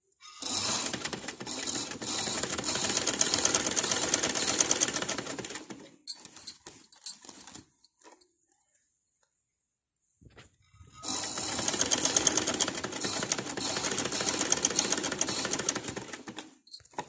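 An electric sewing machine stitches a sleeve onto a kurti in two long, fast, even runs, separated by a quiet pause of a few seconds.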